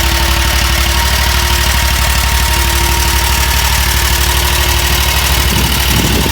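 Riding lawn mower engine idling loudly and steadily up close, a constant rough mechanical drone with a slight rhythmic knock throughout.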